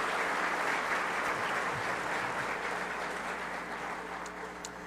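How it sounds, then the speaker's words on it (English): Steady applause from a large conference audience, broad and continuous, gradually thinning slightly toward the end. "A round of applause for all those contributors to our conference."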